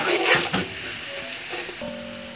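Ground spices and masala, including nutmeg and mace powder, salt and dried coriander, fry in a pan for chicken daleem with a steady, bright sizzle that runs throughout without pause.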